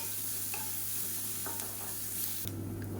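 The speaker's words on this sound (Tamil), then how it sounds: "இப்போ பாருங்கள், பூண்டு நல்லா வறுபட்டுருச்சு." Garlic cloves fry in a pan with a soft, continuous sizzle, while a spoon stirs and scrapes now and then close by. No one speaks.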